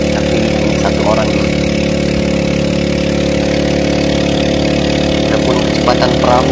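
A longtail boat's outboard engine drones loudly and steadily, close to the listener, with no pauses.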